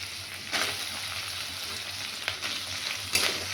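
Tomato added to frying ground poppy seed, cumin and ginger in a pan, a close steady sizzle with a few louder bursts as the pieces hit the oil.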